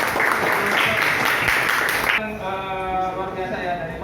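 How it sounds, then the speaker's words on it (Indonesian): A seated audience at an Indonesian talk applauds the speaker with dense clapping for about two seconds before it cuts off abruptly and a voice starts talking. "Tolong dikasih tepuk tangan."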